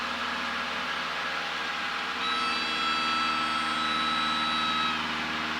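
A small single-engine training airplane's engine run up to full throttle with carb heat off, a steady loud droning roar that climbs a little in pitch partway through, with no talk.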